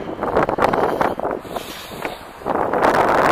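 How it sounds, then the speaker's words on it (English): Steady wind roars and buffets across the mic, easing briefly before gusting back up loudly. "Like I said, it's windy out here again."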